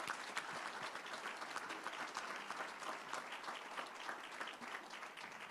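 A crowd at an Acts of Excellence awards event in Watertown gives a sustained round of applause, quiet and somewhat distant, with clear individual claps rising out of the steady clapping.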